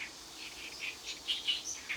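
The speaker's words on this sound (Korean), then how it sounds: "새소리가 들리는데" Small birds chirp and tweet in quick high bursts at the Banyawol lotus field, several calls in a row at moderate distance against a quiet outdoor background.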